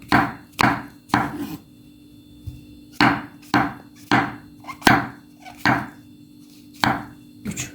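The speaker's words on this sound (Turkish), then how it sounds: "mantarlarımızda bu şekilde doğradım" Half a kilo of mushrooms sliced with a knife on a cutting board: a run of sharp, close chops in irregular bursts, each a crisp thud, over a steady low kitchen hum with no talking.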